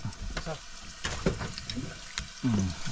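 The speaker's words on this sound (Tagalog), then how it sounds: "Gisa tayo, gisa." Fish sautéing in a hot pan, an uneven sizzle broken by stirring scrapes and clatter, with people talking over it.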